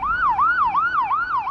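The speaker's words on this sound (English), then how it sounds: "There's a siren going off right now." An emergency vehicle siren wails through a city neighborhood in Providence, a loud rising-and-falling tone repeating about every half second, steady and fairly close with no voices over it.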